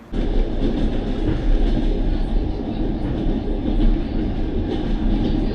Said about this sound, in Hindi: वापस से हमारी ट्रेन किसी रेलवे स्टेशन पर रुकी है